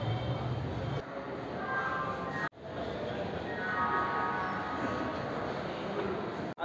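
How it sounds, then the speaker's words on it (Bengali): The Shantiniketan Express, 12337 Howrah to Bolpur, pulls into Howrah station with a steady broadband rumble and rattle of wheels, a faint tonal whine rising in places and two sharp dropouts; no one speaks. "আর এই ট্রেন ঢুকে গেছে টাইম মতোই।"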